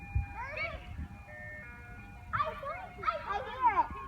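An ice cream truck's jingle plays faintly in the distance, its melody drifting in and out, while children talk nearby outdoors and a dog barks now and then.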